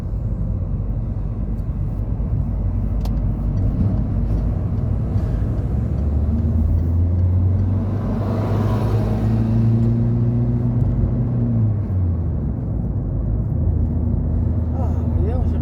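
A car engine runs steadily on a drive to a supermarket, a constant low rumble with a rising and falling tone as the car accelerates, while the driver talks over it.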